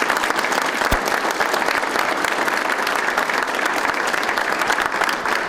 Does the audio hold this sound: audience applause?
yes